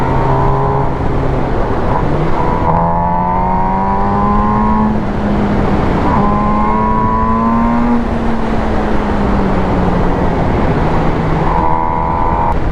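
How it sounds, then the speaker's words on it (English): A loud stock exhaust note from a 2022 MV Agusta Brutale 1000 RS motorcycle rises in pitch several times as it accelerates through gears, droning steadily close by without speech. "The exhaust note out of this, out of stock, it sounds really good."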